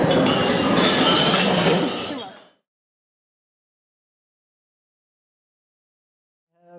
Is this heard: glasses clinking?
yes